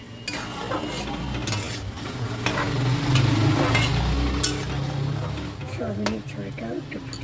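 Soybean and tomato curry simmers in a pan in a village kitchen, with a soft bubbling, sizzling bed of sound and occasional clinks and stirring, while a person talks over it.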